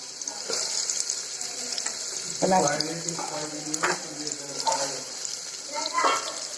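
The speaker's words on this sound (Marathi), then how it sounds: "मी आता हे भाज भाजून घेणार आहे तेलामध्ये भाजून घ्यायची" Ridge gourd pieces frying in hot oil in a pan, with a soft continuous sizzle under bursts of stirring and scraping and a few clattering touches of a utensil.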